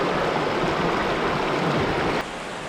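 Freshwater stream flowing steadily, a dense, even rush of water close by that stays constant, then drops slightly in level near the end.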